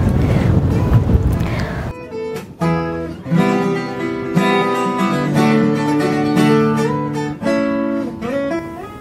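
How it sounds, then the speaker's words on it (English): Wind rushes hard across the microphone on Gunung Bagong near Yogyakarta, Indonesia, for about two seconds, then gives way to a melodic instrumental tune. "it is really windy up here"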